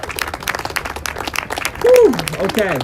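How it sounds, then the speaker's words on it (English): A crowd at a political rally in Washington DC claps in a steady, dense patter, with voices and cheering rising over it toward the end. "Everyone give it another big round of applause for Lee Camp."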